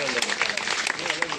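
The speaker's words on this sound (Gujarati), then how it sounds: "જોરદાર તાળીઓ સાથે આપણે એમને વધાવના છે" An audience at a community gathering applauds to welcome an honoured guest, a dense run of close clapping while a voice talks over it.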